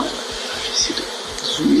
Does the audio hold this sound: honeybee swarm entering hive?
yes